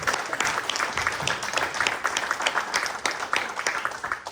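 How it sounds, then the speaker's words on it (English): A crowd at a Pittsburgh Title IX anniversary celebration claps steadily, a moderately loud wash of many hands that continues evenly throughout. "Clap that."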